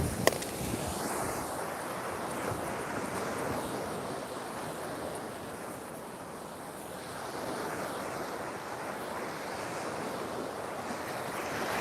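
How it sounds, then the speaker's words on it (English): Wind buffets the microphone on a beach, mixed with steady surf and breaking waves; the rush is continuous and fairly loud throughout, with no one talking. "It's a bit windy today."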